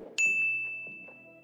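A bright notification bell ding rings once, sharp and clear, then lingers as a sustained metallic tone with faint echoing chimes fading behind it.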